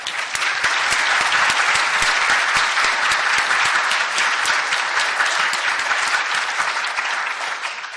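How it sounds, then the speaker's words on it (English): Sustained applause from a seated audience honoring participants at the close of a panel discussion on racism and immigrant perspectives, dense steady clapping lasting about eight seconds before thinning slightly at the end. "So one more round of applause, please."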